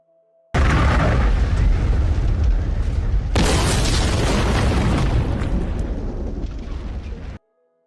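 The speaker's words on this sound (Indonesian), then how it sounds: "Beruntung bom meledak bersamaan dia keluar bersama anak itu" A bomb goes off in a Japanese crime drama, a loud, sudden blast followed by a long roaring rumble, with a second surge of debris and fire about three seconds in before it cuts out abruptly.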